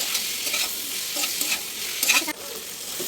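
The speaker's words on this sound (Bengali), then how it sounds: "টমেটো কুচি দিয়ে নাড়িয়ে নেব" Chopped tomato with turmeric, chilli and salt being stirred in a hot pan, a steady close sizzle with scraping spoon strokes at irregular intervals, no voices.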